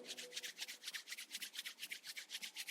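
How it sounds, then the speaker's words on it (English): Palms rubbed briskly together during a yoga pranayama session, a steady rhythmic swishing of about five strokes per second, close and soft, with no talking. "Start rubbing your palms together."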